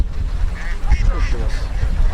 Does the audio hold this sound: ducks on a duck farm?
yes